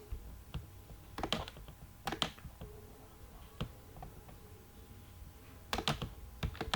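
Keys clatter on a computer keyboard in short bursts of quick typing separated by pauses, close and fairly quiet, as HTML code is entered.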